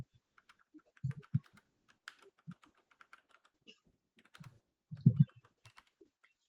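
Computer keyboard being typed on to enter an SMS template: scattered clusters of light key clicks with a few heavier thumps, close and fairly quiet, in otherwise silent surroundings.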